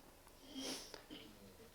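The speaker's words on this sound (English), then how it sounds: "Look at everybody, sniff it now." Several people in a class sniff taste samples together, giving a few faint, breathy sniffs over a quiet room with soft background voices.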